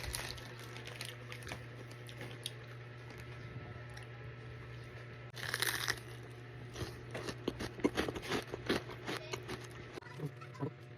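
Someone chews crunchy food up close, with crisp bites and crackling crunches in uneven bursts that grow louder partway through, over a low steady hum.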